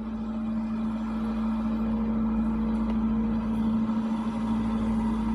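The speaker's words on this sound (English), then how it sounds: "Let's wait till these loud trucks get the fuck out of here." Loud trucks pass near a construction area, giving a steady, heavy engine drone with a strong low hum that holds evenly throughout, with no voices.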